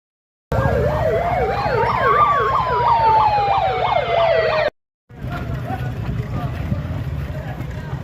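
A hooter siren fitted in a car wails loudly in a rapid rising-and-falling warble for about four seconds, then cuts off abruptly, leaving a noisy background with people around.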